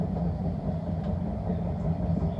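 A London Overground train running between Liverpool Street and Enfield Town, a steady low rumble and rolling hum filling the carriage continuously, close and even, with no talk.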